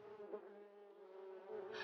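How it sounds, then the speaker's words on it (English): Bees swarm out of a hive under attack from a raccoon, making a continuous droning buzz that holds steady throughout and swells slightly near the end, with no voices. "A swarm of bees flew out."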